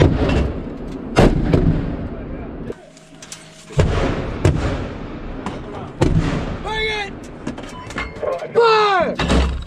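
Live-fire weapon shots at a Warrior Shield military exercise, loud booming reports repeating every second or two, with shouted commands between blasts.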